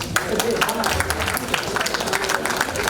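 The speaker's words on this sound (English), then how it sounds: "Give a big clap, please." Dense audience clapping, steady and loud throughout, with chatter blended into the noise.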